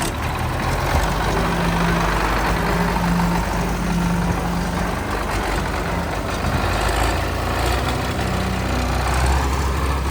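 A heavy farm machine engine idles steadily throughout, a loud, close, continuous low rumble with no talk.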